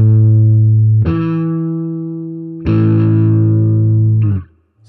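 A guitar sounds a perfect fifth: two sustained, clean-ringing notes struck together, held with a long decay, then restruck louder and left to ring before cutting off, with no talking.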